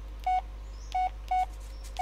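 Phone notification tone in the Blair Witch video game: four short, identical electronic beeps in an uneven rhythm, clear and fairly close over a low steady hum.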